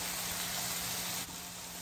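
Ground beef fries in its own rendered fat in a pan as taco potato filling is made, giving a steady, close, even sizzle with no one talking.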